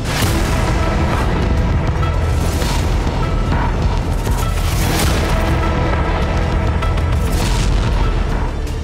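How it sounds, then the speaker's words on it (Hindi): Heavy booming blasts of explosions and artillery fire from the war in Ukraine, loud and continuous with repeated rumbling impacts and no voices. "लेकिन धमाकों का शोर नहीं थमा"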